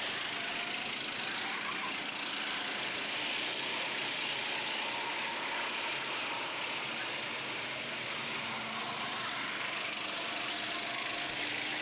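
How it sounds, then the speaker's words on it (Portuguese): A 6 HP racing kart engine at a kart race runs at full throttle on the track, a steady loud buzzing drone that holds for the whole stretch with no pauses and no talk. "Com potência, aceleração total no kart de 6 MHP"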